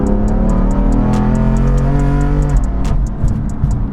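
BMW M4 with a Bootmod3 Stage 2 tune accelerating hard in second gear: a loud, dense engine roar held steady close to the car, easing briefly near the end.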